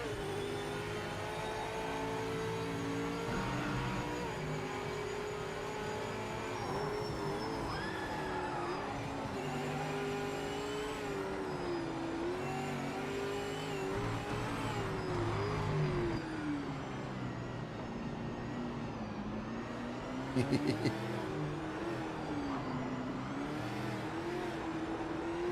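A race car engine from the Project Motor Racing sim drones steadily throughout, pitch rising and falling with throttle and braking through a slow section, with a brief rattly burst near the end.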